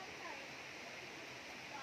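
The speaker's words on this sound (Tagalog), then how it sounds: "Tubig na po. Tumutulo." A steady, close trickle of water dripping from bamboo splashes continuously without pause.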